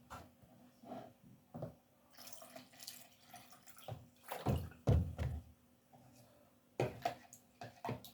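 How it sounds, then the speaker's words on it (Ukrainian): Water pours into a thick cutlet mixture in a few short splashing bursts, close by and fairly quiet, separated by brief pauses. "Бачите, я додаю сюди ще води."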